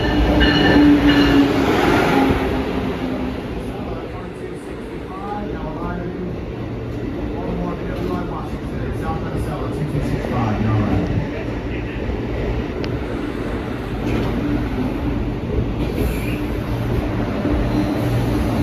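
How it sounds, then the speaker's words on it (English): An Amtrak Acela train rolls into Wilmington station, a steady rumbling roar with clattering wheels and faint squeals building up nearby, while people talk over it. "Here comes the train. Here's an Acela."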